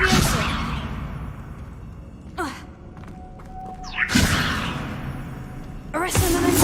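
Spell effects cast in Hogwarts Legacy: two loud whooshing bursts with soft thuds a couple of seconds apart, then a third burst at the end, over steady game background ambience.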